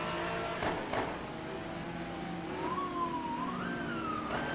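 An ambulance siren passing on the street outside, a faint wailing tone that rises and falls in pitch behind steady background noise, distant rather than close, with no talk.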